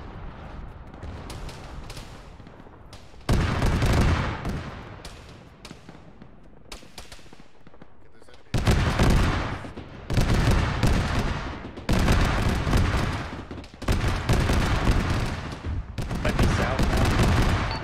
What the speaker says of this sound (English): there's some kind of autocannon Vic southwest